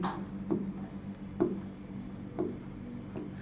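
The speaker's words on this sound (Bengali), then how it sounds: "এবার আমি লিখি" Marker or pen strokes on a board while writing a chemistry formula in a classroom lesson, a few separate scratchy strokes spaced about a second apart, faint, with quiet room tone between them.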